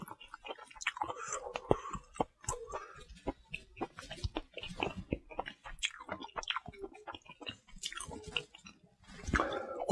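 Dried pollack strips are chewed close to the mic during a Korean mukbang, with soft crunchy bites and wet mastication repeating in irregular bursts, occasional clicks and quiet breaths.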